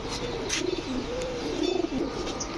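Large Giribaj and racer pigeons coo up close in soft, repeated rolling calls, with faint chirps and a steady background hum.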